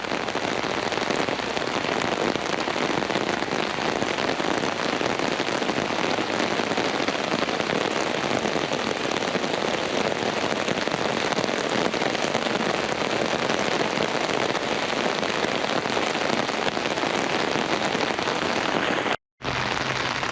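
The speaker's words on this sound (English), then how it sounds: "It rains loud." A loud, unbroken downpour hisses over the grounds of San Francisco's Palace of Fine Arts, steady for the whole stretch apart from a momentary dropout near the end.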